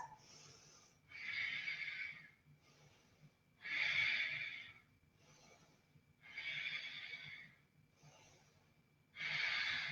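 Deep, audible yoga breaths come in a steady cycle while a person holds warrior B pose in an Ashtanga practice. Close, airy inhales and exhales alternate, with louder rushes about every two and a half seconds and no talking.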